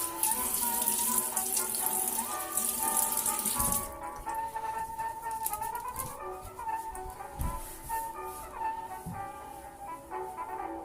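Tap water runs steadily into a sink as a vintage razor is rinsed, a hissing stream that quiets partway through and continues with small splashes and clinks.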